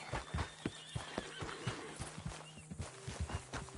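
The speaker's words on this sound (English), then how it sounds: "Where's that horse got to?" A horse in the Red Dead Redemption 2 video game whinnies faintly while its hooves clop in an uneven rhythm, quiet and a little distant, with no talking.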